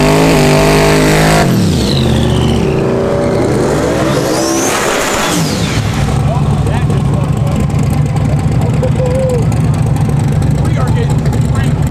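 A drag race car at a TX2K event is cranked over and fires up, its engine rumbling loud and close, then revving hard with rising bursts over a steady growling idle.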